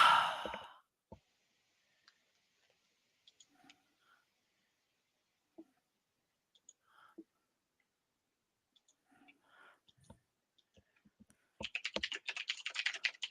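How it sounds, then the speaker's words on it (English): A computer mouse clicks in sparse, faint single taps across a quiet stretch, with a sigh at the start and a burst of quick, dense clicking near the end. "That's me clicking."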